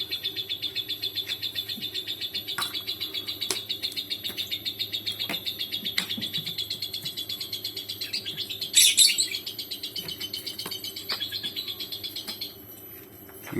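A two-week-old blue lovebird chick chirps in rapid, high, repeated tweets, near and fairly steady, with a brief louder flurry partway through before the calls thin out.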